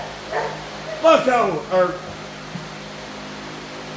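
A chained-up dog barks and yips a few times at middle distance, the short bursts mixed in with someone speaking briefly near the microphone.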